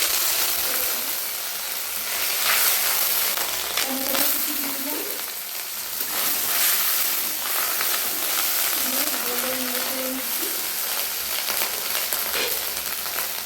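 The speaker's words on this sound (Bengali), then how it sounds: "আমার তেলটা গরম হয়ে গেছে। এবার আমি দিয়ে দিচ্ছি সাইড জিরা 1 চিমটা" Cumin seeds, a pinch of Kashmiri chili and ginger hit hot oil in a home kitchen, making a steady, loud frying sizzle with occasional stirring clatter, while a voice talks faintly underneath.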